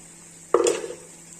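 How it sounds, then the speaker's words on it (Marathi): Asafoetida and turmeric sautéed in hot oil in a pan, a single sharp clink of a spoon against the pan followed by a short burst of sizzling that fades, with a faint steady hiss throughout. "आता यामध्ये घालूया हिंगो हिंग हे सुद्धा आता परतून घेऊयात"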